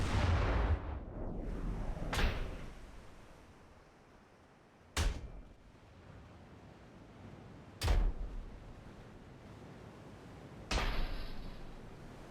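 Heavy naval guns fire in the warship battle game Ultimate Admiral: Dreadnoughts. Booming shots come about every three seconds, each a sharp crack followed by a low rumbling decay.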